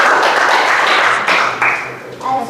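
A classroom audience applauds a student group after its presentation in an Indonesian Islamic jurisprudence lesson: dense, close clapping that swells and dips over a couple of seconds, with voices mixed in.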